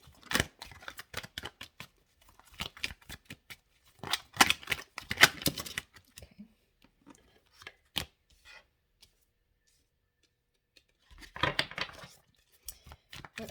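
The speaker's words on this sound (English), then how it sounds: "I love this deck, but it's so awkward to shuffle." Bursts of crisp riffling and tapping as a tarot deck is shuffled, in several short bouts separated by quiet pauses, close by.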